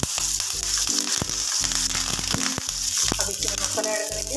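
Cumin seeds, a dried red chili and curry leaves sizzle steadily in hot ghee, a loud continuous crackling fry with bursts of spattering, up close and with no voices over it.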